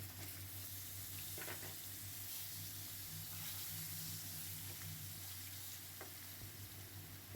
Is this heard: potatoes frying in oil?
yes